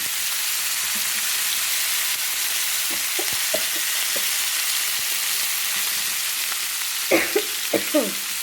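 Cauliflower sizzling in a hot pan with oil and broad beans, a steady loud frying hiss with a few soft stirring scrapes and clinks near the end.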